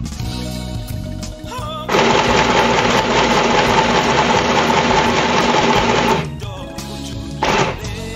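Domestic sewing machine running steadily as it stitches a straight seam through fabric, a continuous loud mechanical whir lasting several seconds, then stopping, with a short second burst of stitching near the end; quiet room sounds between.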